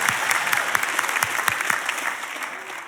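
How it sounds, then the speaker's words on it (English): A church congregation breaks into steady applause during a sermon, a dense wash of clapping with a few louder hand claps standing out close by. "Clap like it's not you"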